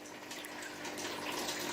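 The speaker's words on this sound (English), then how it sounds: "so I'm releasing the water. It is releasing quite fast" Water drains steadily out of a tank fitted with an automatic water level sensor, a continuous rushing hiss that builds slightly and runs without a break for the whole span, fairly close and with no talking over it.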